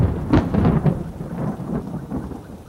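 Thunder rumbles through a heavy rainstorm, low booming rolls mixed with a steady wash of pouring rain, fairly loud and continuous with no voices, set as a sound effect in an animated horror story.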